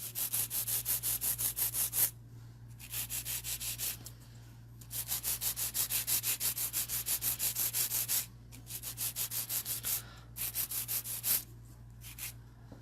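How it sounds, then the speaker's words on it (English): An air-powered e-file grinds steadily on long acrylic nails, a close whirring, sanding hiss that runs in bursts of a few seconds, stopping briefly between passes over a faint constant hum. "Your e-file is so quiet. That's because it runs on air,"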